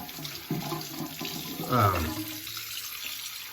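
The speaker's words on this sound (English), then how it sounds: "want to get some hotter water going here" Hot water runs from a tap into a sink in a truck cab, a steady close wash of water with a brief louder gush in the middle, and someone talking faintly over it.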